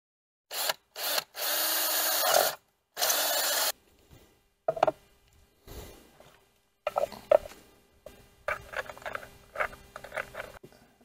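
A small power drill drives a self-tapping screw during golf cart rewiring on an E-Z-GO RXV, with several short whirring bursts up close, then quieter clicks, taps and handling noises.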